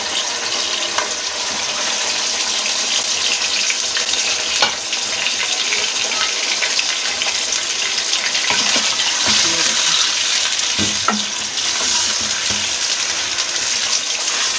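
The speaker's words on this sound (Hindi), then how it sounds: "ये देखें अब हमारा घी मेल्ट हो गया और मैं ये अपनी चिकन जो है ये डाल दूँगी इसके अंदर।" Chicken pieces frying in melted ghee in a pan produce a dense, continuous sizzle and crackle with occasional sharper spits and pops, close and loud throughout.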